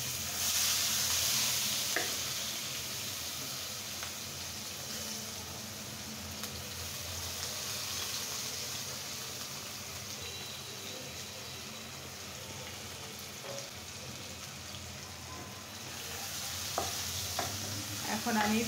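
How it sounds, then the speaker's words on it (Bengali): A handful of chopped onions sizzles steadily in a pan of hot oil, a continuous close hiss with faint stirring scrapes, running alone without talk. "এখন আমি পেঁয়াজকে অনেক সুন্দর করে ব্রাউন কালার করে ভেজে নেব।"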